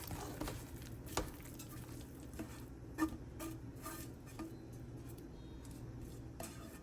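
Eggs are stirred into chorizo and sausage in a dish, giving quiet scattered taps and clicks of a utensil against the container with soft wet mixing in between, close but faint.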